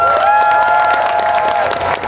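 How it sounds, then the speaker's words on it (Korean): Crowd applause and cheering at an outdoor military band concert at a tomato festival in Hwacheon, a loud, dense wash of clapping and voices, with a sustained tone ringing over it. "박수 부탁드립니다."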